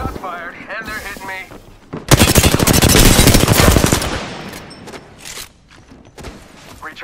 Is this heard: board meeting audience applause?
no